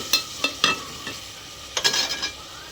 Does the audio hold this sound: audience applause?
no